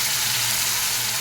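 Fish frying in oil in a kadai makes a loud, dense, unbroken sizzle over a short stretch, with no voices.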